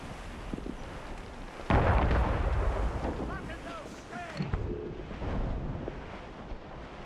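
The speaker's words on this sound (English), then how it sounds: "Ready those mortars, Shay." Heavy booming blast of ship mortars firing in Assassin's Creed Rogue, one loud deep impact followed by rumbling roar and wind over a noisy naval battle backdrop with faint distant calls.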